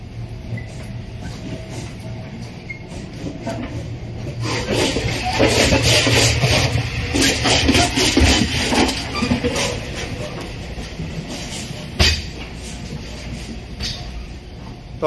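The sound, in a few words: train riding along the rails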